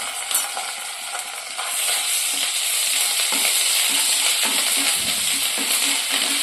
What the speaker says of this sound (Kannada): ಇದೇ ಎಣ್ಣೆ ಒಳಗೆ 1 ಚಮಚ ಅಲ್ಲ ಬೆಳ್ಳುಳ್ಳಿ ಪೇಸ್ಟ್ ಹಾಕೊಂಡ್ರಿ